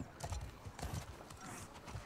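Horse hooves clip-clop in a steady rhythm in The Last of Us Part 2, a few close, distinct strikes with a brief whinny-like tone, with no talk over them.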